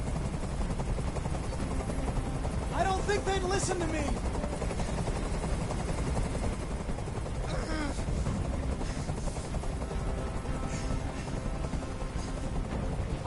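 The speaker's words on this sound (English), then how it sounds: "I can't stand that noise anymore. Tell that helicopter to get out of here." A helicopter hovers overhead during a tense hostage standoff in the video game Detroit: Become Human, its steady loud rotor drone continuous throughout while people talk over it.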